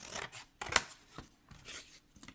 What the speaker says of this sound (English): So I'm just gonna cut off here.